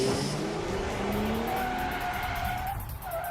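A 2015 Chrysler 300 with the Pentastar V6 accelerates hard on a test track. The engine note climbs steadily through the revs, loud and close, with a brief shift dip near the end and no talk.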